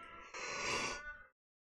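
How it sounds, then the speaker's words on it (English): A single drawn-out yawn runs about a second as a breathy, rising exhale, then stops abruptly. It is fairly close but quiet, with no speech. "Excuse the yawn, apologies."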